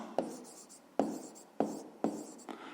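Pen strokes on paper while a maths answer is written out, about five short scratchy bursts at an uneven pace, close and fairly quiet with no talking.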